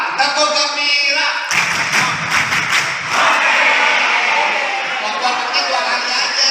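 A group, likely students at an Islamic boarding school training session, claps through a patterned rhythmic routine, sharp claps bunched into bursts, loud and close, with voices chanting and calling along.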